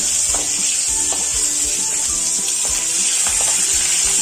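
Dried red chillies go into hot oil with curry leaves and garlic, giving a loud, dense sizzle with rhythmic stirring scrapes over a constant bright fizz.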